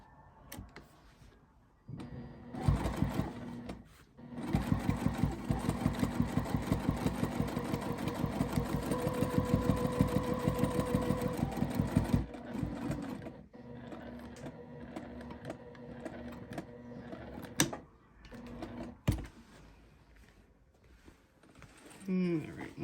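A sewing machine stitches a seam on a tote bag in one long steady run of rapid mechanical whirring, stopping and starting briefly, with a person talking before and after.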